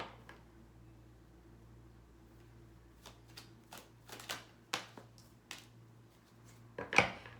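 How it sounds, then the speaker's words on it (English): Tarot cards being shuffled and pulled, a few soft flicks and riffles building to a sharper slap near the end, faint and close over a low steady hum with no speech. "We're gonna pull more cards and see though what this is about."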